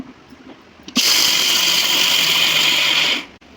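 Roasted ingredients for sesame balls ground in a mixer grinder, a loud, steady high-pitched whir that starts abruptly after a second and runs for over two seconds before cutting off, close by with no talk.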